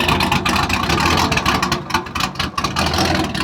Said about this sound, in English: now, this is how the ghost cam is supposed to sound.